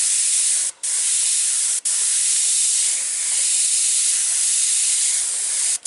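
An airbrush spraying paint gives a steady, close, bright hiss, broken by three brief pauses where the trigger is released.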